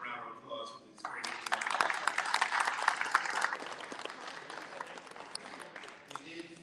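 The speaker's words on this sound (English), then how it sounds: "Let's give Christian a round of applause for these great" A crowd claps steadily for several seconds at a school esports banquet, a moderate round of applause that swells and then tapers, heard from a distance in a large room.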